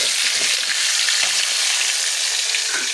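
Pieces of fish fry in hot oil, giving a dense, steady sizzle and crackle that is close and loud. Soft stirring knocks come through now and then, and no one speaks.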